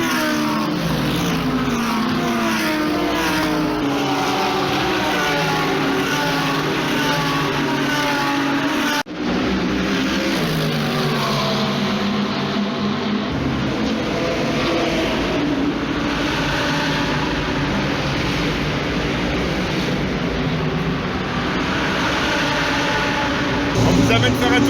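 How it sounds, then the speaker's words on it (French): Race cars passing on the wet track at Spa-Francorchamps during the rainy centenary 24 Hours of Spa, a steady engine roar and spray rising and fading as cars go by, with people talking throughout. "faire des passages pêle-mêle un peu à droite à gauche de voitures qui passent en piste"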